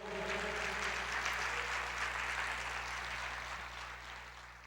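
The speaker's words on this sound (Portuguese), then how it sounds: "pode aplaudir o Senhor" Church congregation applauding during a sermon, a faint, steady wash of many hands clapping over a low electrical hum, slowly fading toward the end.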